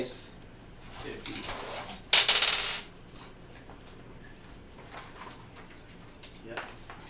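Dice clatter across a table during a tabletop game as damage is rolled, a sharp burst of rattling in the middle among quieter clicks, with people talking around it.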